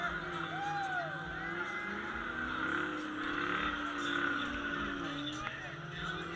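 A car does a burnout, its engine revving hard and wavering while the spinning tires hiss and squeal steadily, heard at a distance over faint crowd noise.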